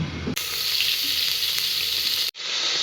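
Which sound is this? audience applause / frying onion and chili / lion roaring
frying onion and chili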